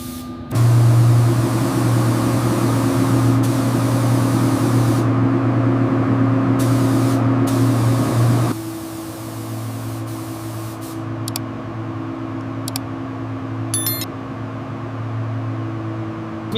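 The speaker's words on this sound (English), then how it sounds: "Now for the spray gun." Spray gun hissing paint onto a burnt Bugatti Chiron, a loud steady spray for about eight seconds, then a quieter continuous hiss with a few faint clicks.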